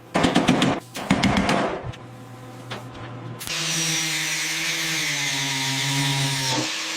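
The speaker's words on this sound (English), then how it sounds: "Grinding it smooth." A power tool grinds welded metal smooth on a Buick Skylark body. Loud, rattling bursts come first, then a steady, high, droning whine close by.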